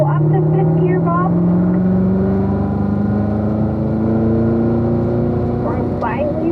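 A car engine pulls hard and climbs steadily in pitch while shifting up to fifth gear, a loud continuous drone from inside the cabin, with someone talking over it.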